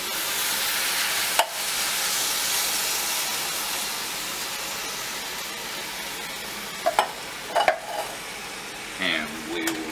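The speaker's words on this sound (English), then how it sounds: "we'll put in our tomatoes first, along with our beans." Diced tomatoes and black beans go into a hot pot, setting off a steady, loud sizzle and hiss of frying that fills the clip, with a few brief clinks and stirring knocks near the end.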